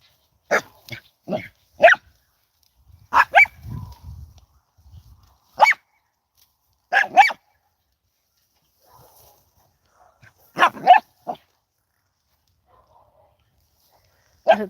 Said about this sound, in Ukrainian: Так, Олександр Грицевич, у вас пастух гавкає.